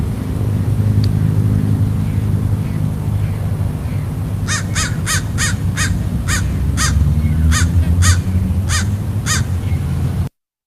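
Crows caw repeatedly in trees at a Hollywood-area cemetery, a run of about a dozen loud, evenly spaced harsh calls from nearby branches over steady low traffic rumble, with no talking.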